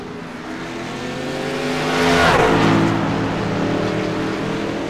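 A NASCAR race car pulling away from pit road after taking four tires and fuel, its engine note swelling and rising to a peak before easing off, heard alone.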